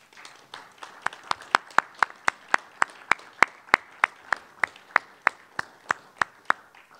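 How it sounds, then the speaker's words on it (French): Slow, evenly spaced handclaps ring out in a council chamber during a municipal council installation, as newly elected deputy mayors are applauded; around two dozen sharp claps in steady rhythm over about seven seconds, moderately close. "Merci, vous pouvez les applaudir."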